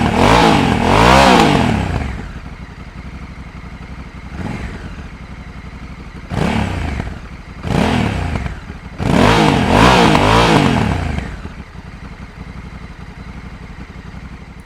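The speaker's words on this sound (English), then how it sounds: "a really appealing soundtrack from that stock exhaust, which for reference sounds like this." A 2020 Honda Africa Twin Adventure Sports motorcycle with stock exhaust revs in several sharp bursts, rising and falling, with idle rumble between throttle blips, loud and close.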